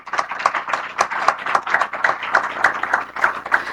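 Audience applause at a formal event honouring a guest, with many hands clapping in a steady, lively patter that stays loud throughout, with no talking over it.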